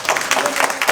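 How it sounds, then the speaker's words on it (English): Audience clapping at a convention panel during New York Comic Con 2019, a brief burst of dense, close applause from a crowd with a voice faintly underneath. "Thank you for the applause."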